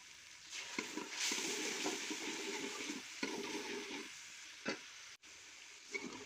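Spiced masala of chili and salt sizzling in a pan for aloo lobiya, with quiet frying hiss broken by soft scrapes and knocks of a spoon stirring it through.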